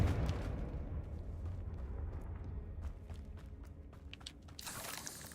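A Confringo fire spell explodes in Hogwarts Legacy during a spider fight, a low rumbling blast that rolls on and fades, with crackling debris bursts and a final sharp burst near the end, and no talking.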